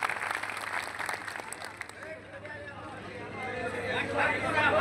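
Applause from a crowd at an outdoor political rally in a village, a broad steady wash of clapping with murmuring voices mixed underneath, swelling louder toward the end.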